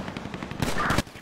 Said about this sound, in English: there's been multiple shots fired